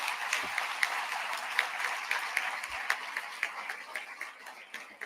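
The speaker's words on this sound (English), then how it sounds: "Let's give them one more round of applause." Sustained audience applause at a national seminar opening ceremony, a dense wash of many hands clapping steadily from start to finish with no voices over it.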